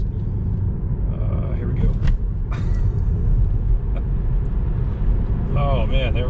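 A dream car's engine rumbles steadily as the driver floors it toward a 60 mph national speed limit, a constant deep drone with road and wind noise throughout while the driver speaks briefly.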